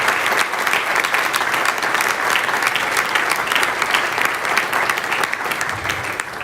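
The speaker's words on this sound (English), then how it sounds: "Let's give them a round of applause." Steady, full applause from a large audience at an Eagle Scout Court of Honor ceremony, continuous and loud for several seconds with no talking.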